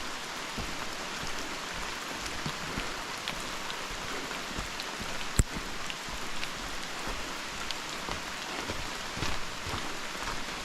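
Steady rain falls in a Costa Rican rainforest at Heliconias Rainforest Lodge, a dense even hiss of drops on leaves, with one sharp tap near the middle and no talking.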